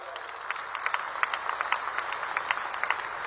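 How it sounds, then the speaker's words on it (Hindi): A crowd at a public event claps and applauds, a continuous patter of many hands with sharper individual claps popping out, moderately loud and sustained. "बच्चियों के लिए एक बार जोर से ताली बजाओ जरा।"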